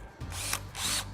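Craftsman power drill whirring in two short bursts, close and fairly quiet, a brief pause between them, with no talking.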